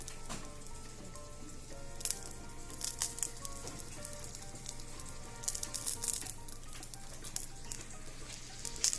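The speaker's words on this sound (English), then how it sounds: "Fry it before you boil it." Dried chiles fry in a pan for birria, giving off a quiet, irregular crackle and soft sizzle with scattered pops.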